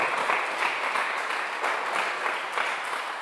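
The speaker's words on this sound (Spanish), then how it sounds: "Dele un aplauso al Señor, por favor." A church congregation applauds during a Sunday service, steady continuous clapping from many hands filling the room with no voices over it.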